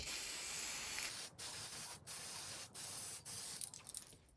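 A can of spray paint hisses in several sustained bursts onto a Proline FJ40 Cruiser scale truck body, brief pauses between, close by and steady, ending in a few short sputters.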